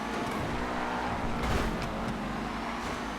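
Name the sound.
Project Homecoming Rapid GT car engine in GTA FiveM video game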